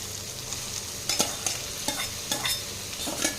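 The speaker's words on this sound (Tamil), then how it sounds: "காளானும் எண்ணெயில் கொஞ்சம் நல்லா வதங்குச்சுன்னா தான் நம்மளுக்கு நல்லா இருக்குங்க நம்ம வதக்கிக்கலாம்" Mushrooms sauté in oil with tomato and onion for a pea soup, a fairly quiet continuous sizzle broken by several distinct scraping strokes of a spoon stirring the pan, with no voices.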